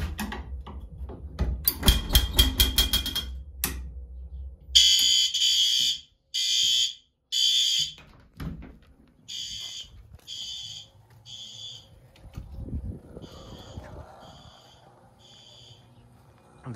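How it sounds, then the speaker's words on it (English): A fire alarm horn strobe in a new shed building blares after a pull station is activated, sounding in repeated loud pulsed bursts in a temporal pattern, with clattering and handling noises around it and no talk. "So we'll pull it in here, make sure the horn strobe goes off in here"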